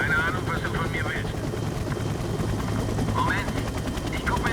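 Constant helicopter rotor noise from the video game Splinter Cell Double Agent, a dense loud rumble with brief higher chirps mixed in over the whole span.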